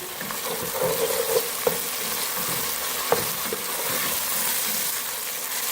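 Garlic-ginger paste frying with golden-brown onions in hot oil while making chicken biryani, a continuous close sizzle with a few stirring clinks and scrapes against the pot, no talking.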